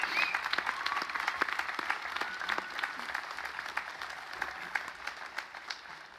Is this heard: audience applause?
yes